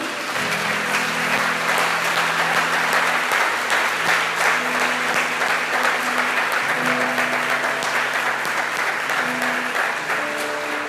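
Steady, enthusiastic applause from a large church congregation fills the room continuously, with soft sustained organ-like tones underneath.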